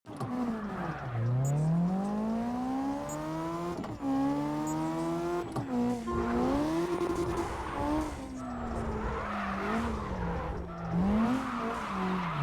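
A car drifting in CarX Drift Racing Online, engine revving up and down with sustained tire squeal as it slides through turns, loud and unbroken with no talking.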